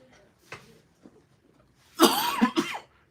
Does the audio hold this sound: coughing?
yes